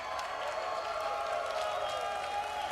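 Crowd cheering and applauding at an EA FIFA gaming event finals, a steady, dense wash of noise from a large audience that holds at the same level for the whole stretch.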